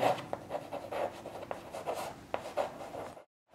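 Pen writing a final answer by hand on paper, a close, quiet run of scratchy strokes and taps lasting a few seconds, then silence.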